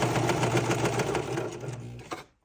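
A serger runs fast and steadily as it sews stretch fabric to elastic straps, a close, loud mechanical whir that slows and stops at the end, with no talk.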